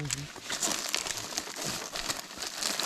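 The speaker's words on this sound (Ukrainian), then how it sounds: "Сань, що ти там розпаковуєш, показуй" Crinkly plastic rustling and crackling continuously, close up, with people talking over it.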